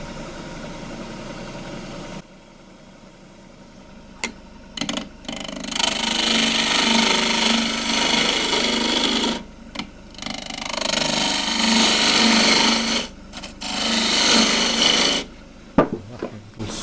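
A fiddleback eucalypt display bowl spinning on a wood lathe while a chuck recess is cut into it. The tool gives harsh, rasping bursts of several seconds each, separated by short pauses, close and loud, with no talk.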